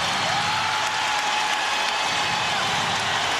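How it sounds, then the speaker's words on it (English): A basketball arena crowd on its feet during the 2004 Lakers–Spurs West Semifinals Game 5 makes a loud, dense, unbroken roar of cheering that holds at an even level throughout. "Crowd on its feet."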